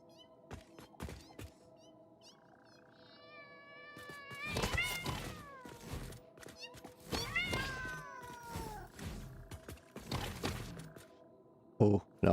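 Creepy alpha cat creature in the game Satisfactory lets out several loud, drawn-out wavering meows and caterwauls in succession, set against a constant low mechanical hum, with a sharp thump near the end.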